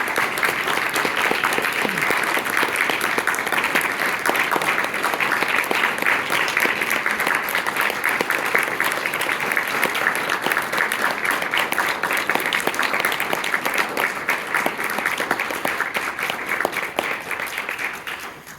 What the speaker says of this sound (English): Can we all give him a warm round of applause?